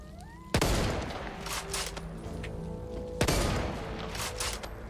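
A .50 caliber gun fired in the video game Back 4 Blood, two heavy, booming shots spaced about three seconds apart, each with a ringing tail and softer mechanical clatter between them.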